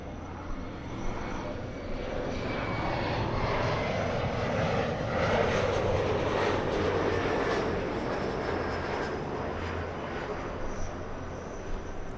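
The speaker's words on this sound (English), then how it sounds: "We have United Airlines 1363 flying in from Chicago." A United Airlines jet inbound from Chicago on final approach to LAX gives a steady, broad engine roar that holds loud throughout and swells slightly midway, with no talking over it.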